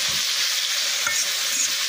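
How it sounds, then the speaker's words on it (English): Ackee and saltfish sizzle steadily in a frying pan as they are stirred, a close, continuous hiss with soft scraping and clinking of the utensil against the pan, no voices over it. "that's the ackee and saltfish swirling up."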